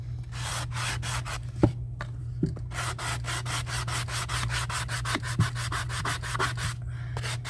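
An old wall shelf being sanded by hand with a sanding block, giving close, rhythmic back-and-forth rasping strokes in a steady series over a low background hum, with no talk.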